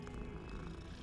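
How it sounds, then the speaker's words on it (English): Soft, steady purring rumbles continuously for about a second, low and close, with no talking. "it's a pretty kitty"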